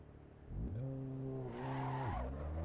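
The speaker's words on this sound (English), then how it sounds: "now does my sound come up good with the sound of the engine?" A race car engine in the racing game Assetto Corsa Evo revs up loudly, holds a high steady pitch, dips and climbs again with a brief tire squeal, heard alone without talk.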